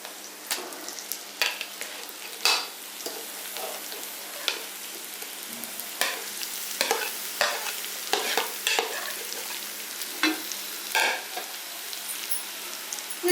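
Mashed potatoes are stirred into a pan with a soft continuous frying hiss, punctuated by frequent sharp spoon scrapes and taps against the pan, close up and without talk.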